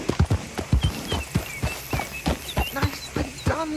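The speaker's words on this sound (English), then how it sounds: "I didn't know I could drift my horse." Video game horse hooves clatter rapidly in a steady galloping rhythm before skidding to a stop, close and loud, with faint chirping birds in the background.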